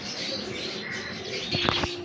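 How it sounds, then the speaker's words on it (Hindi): Hira Lal breeder pigeons at a keeper's home coo softly nearby, with a low murmuring call and a short burst of flutter or chirps near the end. "शौक से भरे हुए कबूतर हैं ये माशाल्लाह।"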